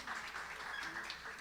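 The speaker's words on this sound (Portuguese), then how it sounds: "Dê um salve de palmas para essa moça aqui." Soft, scattered clapping from a small group, faint and brief, sounding somewhat distant.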